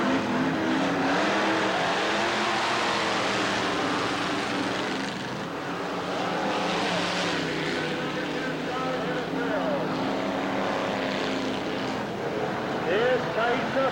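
Race cars at Bureau County Speedway, a dirt oval in 1989, drone steadily around the track under a constant loud crowd and engine wash, with an announcer talking over it throughout.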